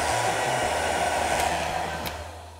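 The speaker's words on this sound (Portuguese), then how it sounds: "mas para mostrar para vocês que pode usar o secador também" A hair dryer blows steadily on fresh stencil paint on a decorated box, giving a close, loud whirring rush with a low motor hum that holds even and drops slightly at the end.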